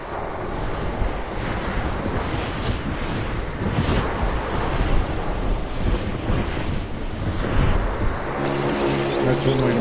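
A ship moves across the sea in a Franz Kafka video game, with steady rushing water and wind-like surf noise that rises and falls throughout. A faint tonal sound creeps in near the end.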